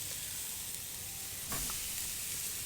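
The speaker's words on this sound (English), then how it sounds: "But listen to that sizzle, and you get over how gross it is real quick." Steady loud sizzling of steaks searing on a hot grill, with a brief burst of crackling partway through.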